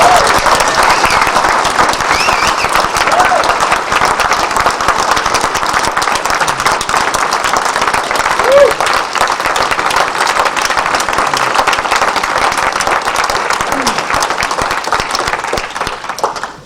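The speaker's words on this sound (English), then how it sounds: "Once more, a round of applause for all of our panelists." Vigorous applause and clapping from a conference audience honoring a panel of speakers, loud and sustained for the whole stretch with sharp individual claps, a few voices and whoops faintly mixed in, tapering off at the very end.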